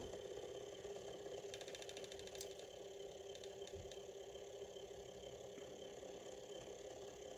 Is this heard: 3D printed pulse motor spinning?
yes